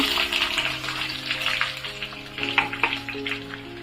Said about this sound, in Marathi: चांगलं परतून घ्यायचं कांदा मऊसूक पडेपर्यंत परतून घ्यायचं